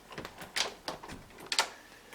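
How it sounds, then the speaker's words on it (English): An old door in an abandoned basement is opened, giving a few separate creaks and scrapes spread over about two seconds, close by and fairly quiet. "Let's check out this door."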